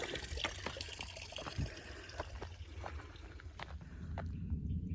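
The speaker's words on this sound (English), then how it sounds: "The Leona Canyon Trail comes complete with teeny tiny waterfall." A tiny waterfall trickles on the Leona Canyon Trail in a regional open space preserve: a faint, continuous dribble of water, with soft footsteps and a few scattered taps nearby.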